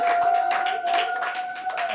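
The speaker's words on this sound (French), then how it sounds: "Est-ce qu'on peut applaudir très fortement pour elle?" Scattered clapping from an audience at a certificate award ceremony, a few hands beating unevenly over a steady background tone.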